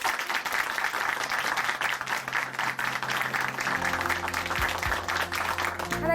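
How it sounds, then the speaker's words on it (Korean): A church congregation applauds after a testimony, a dense continuous wash of clapping that holds steady throughout before easing slightly near the end, with no voices over it. "오늘 귀한 간증 전해주신 우리 자매님께 다시 한번 큰 박수 보내드릴게요"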